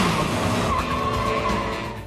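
A James Bond car skids hard while drifting around tight corners, a sustained loud tire squeal over a roaring engine, continuous for about two seconds and fading slightly at the end.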